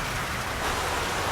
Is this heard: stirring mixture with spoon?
no